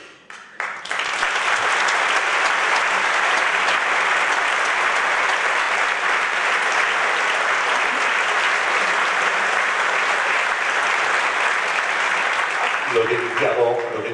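Concert audience at a string orchestra performance breaks into loud, sustained applause that swells quickly and holds steady for over ten seconds, tapering as a voice speaks near the end.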